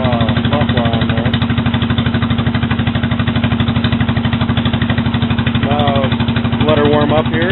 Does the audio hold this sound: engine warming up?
yes